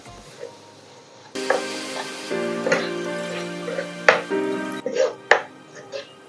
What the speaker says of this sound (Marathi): आणि फक्त आता आपल्याला हे परतून काढायचंय.